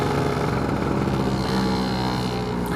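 A Lambretta scooter fitted with a BGM PRO MZ30 exhaust holds steady at about 4,000 revs, a close, even, buzzy two-stroke drone with no change in pitch.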